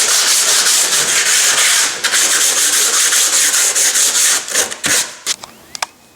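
Sandpaper rubs by hand along the freshly sawn edge of a kitchen worktop cut-out, a run of close, rhythmic scratchy strokes that breaks into short separate swipes toward the end.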